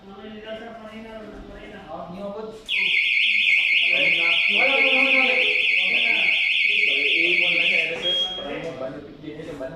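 A home alarm system's smoke detector emits a loud, continuous high-pitched electronic tone that holds for about five seconds and then cuts off, while people talk nearby before, during and after.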